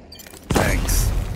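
A lethal grenade goes off in the Rogue Company shooter game, one sudden loud blast that stays up as a broad roaring rumble with debris hiss, following a quiet lead-in.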